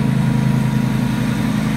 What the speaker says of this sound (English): I hope y'all can hear me over that lawnmower